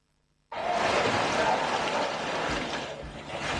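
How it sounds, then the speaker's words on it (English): Really heavy rain in West Africa, a dense steady broadband roar that starts abruptly and keeps up continuously, fairly close and loud with no voices over it. "That is the sound of really heavy rain."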